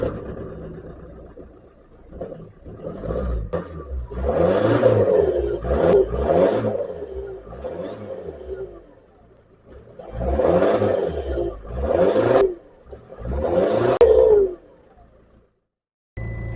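An Audi A3 with a suspected dead battery cranks and tries to start, with several rising bursts of engine and starter noise separated by short lulls, close and fairly loud, then falling quiet at the end.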